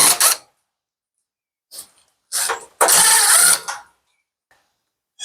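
A power screwdriver backing screws out of the back-panel tabs of an LG front-loading washer, several short whirring bursts of about half a second each with gaps between them, the longest and loudest near the end, close up.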